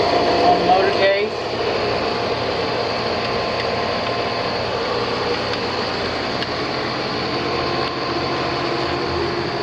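A rusty-cased motor for a swimming pool pump, the number two unit and leaking, hums steadily at close range throughout, while someone talks over the constant drone.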